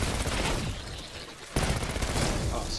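Sustained automatic gunfire rattles through a Call of Duty Black Ops 6 match, dense and loud bursts with a brief lull before the shooting resumes.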